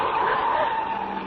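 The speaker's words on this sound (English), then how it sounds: "The car twisted and swerved." Tires skid and squeal as a car swerves hard, a loud sustained screech lasting over a second with no voices, staged as a 1940s radio drama sound effect.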